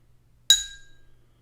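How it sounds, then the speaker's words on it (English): A single strike on a drinking glass half filled with water, one of a set of musical water glasses, produces a crisp clink and a short, bright ring that decays quickly. "Then the glass with half the amount of water"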